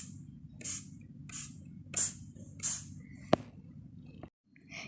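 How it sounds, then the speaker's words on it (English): A spray bottle gives a few short hissing puffs of mist over a low steady background hum, each burst brief and close, followed by one sharp click and a moment of near silence. "Then take a spray bottle and take 1 pump."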